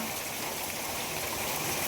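Steady rain pours down over a village in Andhra Pradesh, a dense, even hiss that fills the whole stretch without any break or voices.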